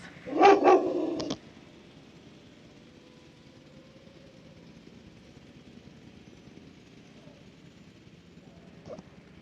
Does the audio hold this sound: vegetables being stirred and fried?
no